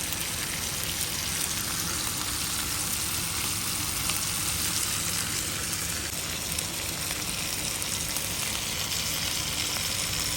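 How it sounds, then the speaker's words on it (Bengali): Desi chicken with spices frying in a pan, a continuous hissing sizzle like steady rain, even and unbroken from start to finish, moderately quiet and close, with no talking. "এটাকে একদম ভাজা ভাজা করে নিচ্ছি"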